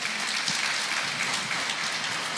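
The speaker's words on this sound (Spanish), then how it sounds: "dele un fuerte aplauso" A Baptist church congregation claps loudly, a dense, continuous wash of applause that stays even throughout a short burst.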